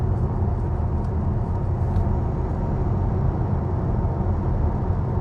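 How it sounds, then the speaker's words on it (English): Steady, broadband rumble and road roar inside the cabin of a Skoda Enyaq Coupé RS electric car while driving, a constant low hum with faint higher hiss and no voices. "it sounds like this Skoda Enyaq is noisier than the ID7"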